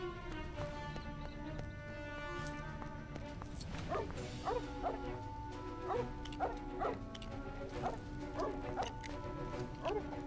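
Cartoonish dog barks and yips from a LEGO Pirates of the Caribbean video game, a string of short repeated woofs over steady game music, with some faint talk.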